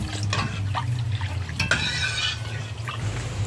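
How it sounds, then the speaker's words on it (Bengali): Milk being stirred in a pot as it boils, a steady scraping, sloshing swirl against the metal that runs continuously at close range. "দুধটা এরকমভাবে ঘাঁটতে থাকতে হবে, নাহলে তলায় বসে যাবে।"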